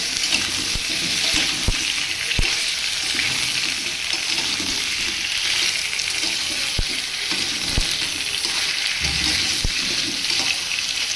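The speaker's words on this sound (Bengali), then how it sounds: "মিষ্টি কুমড়োটাকেও প্রায় 2 মিনিট মতো ভেজে নেব" Pumpkin and potato fry in a pan with a dense, steady sizzle throughout, with a few sharp utensil knocks scattered over it, close up and with no talk.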